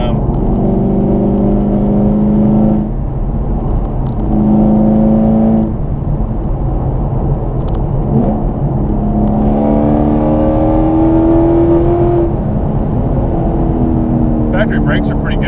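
A supercharged HPE750 Camaro SS V8 lugs in fifth gear down to low revs, a loud, steady deep engine drone with stepped harmonic rises, heard close from inside the car beneath ongoing talk.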